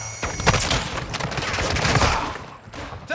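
Heavy sustained gunfire in a video game firefight, a loud, continuous barrage of overlapping automatic shots that thins out briefly near the end before picking up again, with no talking.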